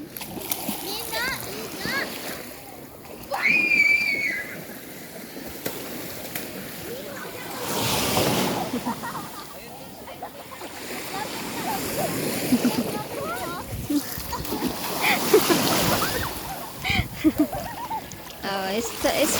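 Sea water washes and splashes at a beach, with waves surging in two louder swells, while adults and children talk and shout over the water.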